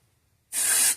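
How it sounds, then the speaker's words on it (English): A root touch-up hair spray can gives one sharp, close hiss lasting about half a second after a moment of quiet. "Root spray."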